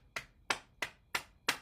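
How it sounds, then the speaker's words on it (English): Five sharp hand claps at a steady, slightly uneven pace during a circulation and heart-health exercise routine, each crisp and close with a quick decay and near silence between. "and then we'll clap"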